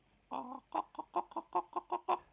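A pet hen clucks close by in a quick run of about nine short, evenly spaced clucks, loud and clear with no voices over them.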